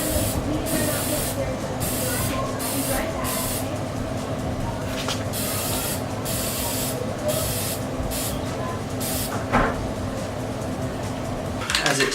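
A spray gun lays another coat of lacquer over waterslide decals on a guitar headstock, a steady close hiss that runs for the whole stretch, broken by short pauses and a few faint knocks.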